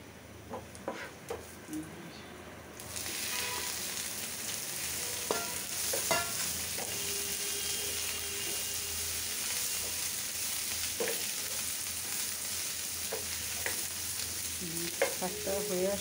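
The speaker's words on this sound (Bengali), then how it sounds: "এখন বাগারটা দিয়ে দিব" Tempering (bagar) for bottle gourd greens sizzles steadily in hot oil, starting abruptly a few seconds in and continuing as a constant hiss with occasional clinks of a spoon or pot.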